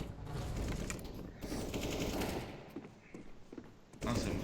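Rapid rifle gunfire in CS:GO, dense bursts of shots in quick succession that pause, resume and end with a louder close volley, played under excited talking.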